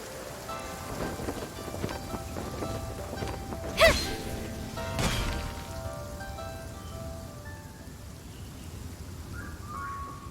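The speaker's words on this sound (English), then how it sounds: "Quite a downpour." Heavy rain pours steadily in the video game Genshin Impact, with a couple of brief thunder cracks and rumbles early on before the downpour continues evenly.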